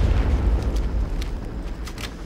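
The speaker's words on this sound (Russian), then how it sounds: "Эх, граната." A grenade explosion in a first-person shooter, a deep booming blast with rumbling debris that rolls on and slowly fades over two seconds, loud and close with no voices.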